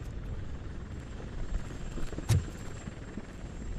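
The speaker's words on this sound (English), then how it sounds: "That's a TV helicopter." A TV news helicopter in the video game Robocop Rogue City, a steady rotor drone that carries on throughout at moderate level, with a brief thump partway through.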